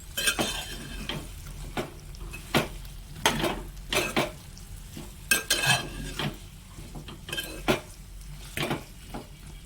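Bottle gourd curry stirred in a cooking pot, a spoon scraping and clacking against the metal in irregular bursts over a soft sizzle, close and fairly loud with no talking.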